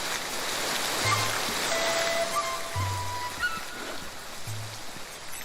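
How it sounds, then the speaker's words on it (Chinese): Steady rain falls as a broad, even hiss throughout, with a few faint low tones underneath and no talking. "下雨了"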